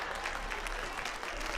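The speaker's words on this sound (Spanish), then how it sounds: "Parece que las chicas están aplaudiendo." A crowd of women in an audience applauding, a steady close wash of clapping without pause.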